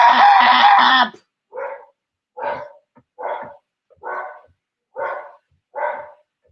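Dogs bark loudly and close by: one long, drawn-out howl-like bark, then six short, evenly spaced barks separated by silence.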